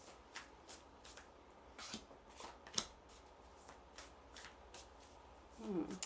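Tarot cards are drawn and shuffled from a deck, with soft repeated slaps and riffling flicks of card stock at close range, including one sharper snap midway, and no talking.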